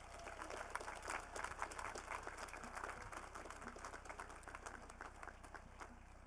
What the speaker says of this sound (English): Let's give all our new PhD graduates a round of applause